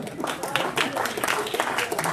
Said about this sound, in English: Round of applause for the bus trip.